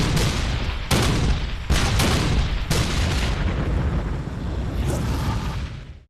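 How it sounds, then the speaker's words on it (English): Civil War cannon barrage at the Battle of Gettysburg, with hundreds of guns firing: several loud, heavy booms come in quick succession over a continuous roaring rumble, fading out at the end, with no talk. "The largest artillery barrage ever in North America is about to begin."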